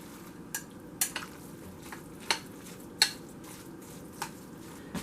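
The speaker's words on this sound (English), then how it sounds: "Give it a good stir." Food stirred in a pan while stuffed cabbage is cooked, a steady low sizzle with a handful of sharp utensil scrapes and clinks spaced through the few seconds, close by and with no talking.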